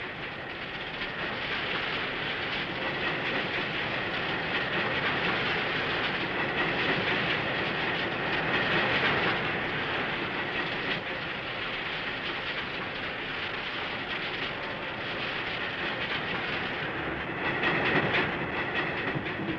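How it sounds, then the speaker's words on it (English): A railway track tamping machine works steadily, hydraulically lifting sleepers while eight metal tines compact the ballast, making a dense continuous mechanical roar with rattling clatter throughout and a slight surge near the end. "the tamping machine itself, which lifts the sleepers hydraulically. And 8 metal feet or tines compact the ballast."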